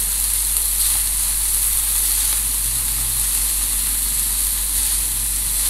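Capsicum and chicken sizzle loudly and continuously in a hot pan while being stir-fried, a dense, steady hiss with a low electrical hum beneath and no talking.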